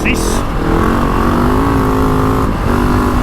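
A GasGas ES 700 motorcycle engine pulls hard and shifts up with a quick shifter, the loud close drone stepping in pitch at the change amid wind rush and a talking rider.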